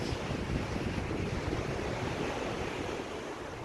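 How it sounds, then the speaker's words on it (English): Ocean surf washes steadily ashore under gusting wind that buffets the microphone, a loud, continuous roar with no voices. "Listen to what I'm listening to. The wind and the waves."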